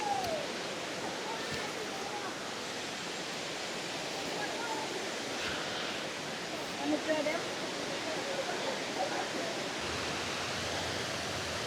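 Ikea waterfall beside a campground a few steps from a parking lot, a steady broadband rush of falling water filling the whole scene, close and constant with no pauses.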